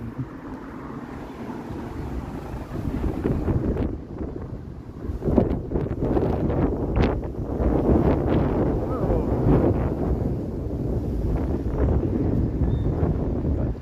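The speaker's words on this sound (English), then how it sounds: "Mighty gusty here all of a sudden." Gusty wind buffets an outdoor microphone at Ontario Place in Toronto, a steady loud rumble with stronger surges throughout and no clear speech.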